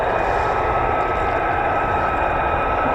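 Steady, loud roar of a fighter jet departing RAF Lakenheath, an F-15 or F-35 of the 48th Fighter Wing, a broad continuous engine rumble with no talk.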